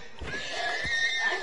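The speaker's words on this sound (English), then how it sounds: "Johan, why are you always killing horses" A horse whinnies in a video game, a bright rising-and-falling neigh with a few faint hoof clops underneath, fairly close and clear with no talk over it.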